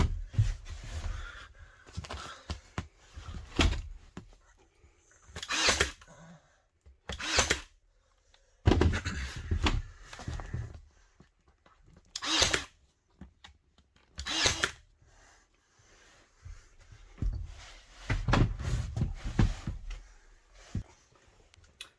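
Tongue and groove pine boards being nailed up in a gambrel loft, a series of loud, sharp, isolated bangs spaced a second or more apart, close to the microphone, with quiet stretches between.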